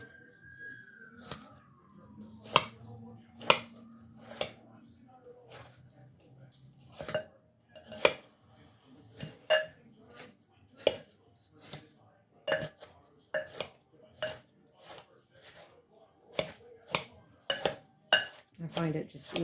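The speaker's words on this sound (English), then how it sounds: "making bite-sized pieces, cutting all the way through your wedges of your watermelon" A knife cuts watermelon wedges into bite-sized pieces on a board, a steady run of sharp, close chops and knocks under a voice talking.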